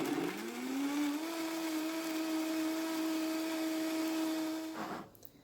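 A blender whirs steadily as it purees a banana smoothie with ice, coconut milk, cinnamon and vanilla, the motor winding up at the start, holding an even high hum for about four seconds, then cutting off abruptly.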